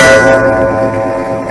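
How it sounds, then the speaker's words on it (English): A wall clock gives a single sharp metallic chime, loud and close, its bell-like ring sustaining and slowly fading over the moment with no voices. "the wall clock behind me let out a sharp metallic chime that shattered the silence"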